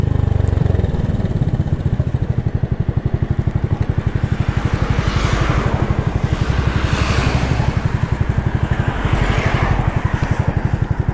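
A Suzuki Address 125cc scooter engine drones steadily while riding, a loud close buzzing pulse with wind rush swelling over it, continuous throughout with no talking.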